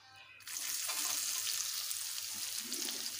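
Onion and crushed garlic hit hot oil in a pan while cooking a singi fish curry with potatoes, a sudden loud sizzle that starts half a second in and keeps crackling steadily, with faint stirring toward the end.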